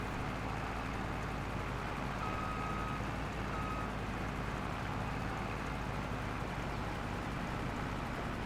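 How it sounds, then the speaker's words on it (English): Truck driving through rows of grape vines in the video game Farming Simulator 22, a steady engine drone with a pair of brief reversing-style beeps early on, continuous throughout. "I'm going to have to drive the truck in and then drive it out the other side."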